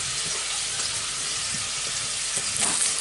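Squirrel pieces browning in a frying pan for a creamy mustard sauce dish, giving a steady close sizzle with faint stirring clicks throughout, no talking.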